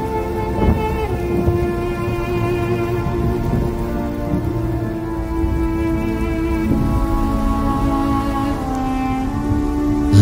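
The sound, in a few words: rain sound effect at a dance performance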